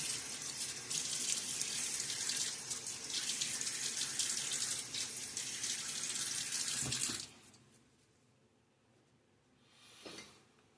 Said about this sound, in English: Let me get some water on my face.